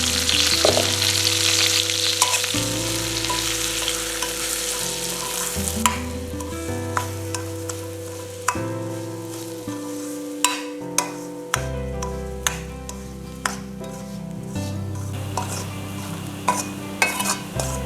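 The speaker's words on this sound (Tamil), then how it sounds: "இப்போ நெய்யோட இப்போ நம்ம ரவையை சேர்த்து வறுக்க போகிறோம்." Semolina (rava) roasting in ghee in a pan, stirred with a spoon that clinks and scrapes against the metal in repeated strokes over a low, steady sizzle, close and without talk.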